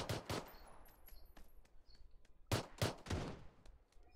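Gunfire from the video game PUBG on PS4 rings out as a few sharp single shots, then a quick burst of several close loud reports, with quieter gaps between them.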